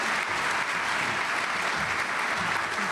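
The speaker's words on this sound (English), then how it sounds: "Can we give them a round of applause?" A crowd at a luncheon claps steadily throughout, a dense, even round of applause with no breaks.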